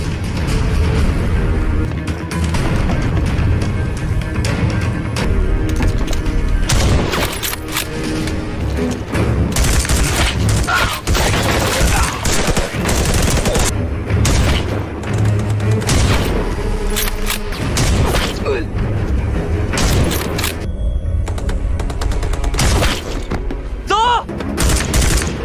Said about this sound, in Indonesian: para pasukan juga harus terlibat baku tembak dengan musuh